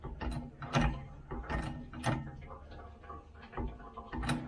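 An Austin Allegro being jacked up off an axle stand during a driveshaft job, heard as repeated close mechanical ratcheting clicks and creaks from the jack in an uneven rhythm.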